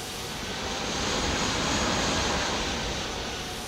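Airbus A320neo engines in the X-Plane 12 flight simulator, heard from outside the aircraft as a steady, broad, even roar that swells slightly in the middle and holds throughout with no voices.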